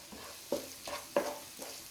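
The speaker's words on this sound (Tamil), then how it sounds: "மிளகாய்த்தூள் வாசனை போகிற அளவுக்கு நல்லா வதக்கிடுங்க" Spices and chilli powder are stirred and sautéed in a pan for a paneer side dish, giving soft scraping strokes at a steady rhythm over a faint sizzle, with no talking.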